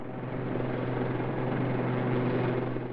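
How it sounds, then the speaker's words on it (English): A Westland Lynx shipborne helicopter, a steady muffled rotor and turbine drone holding at an even level for the whole stretch, with no voices. "the Lynx is a new concept in shipborne helicopters"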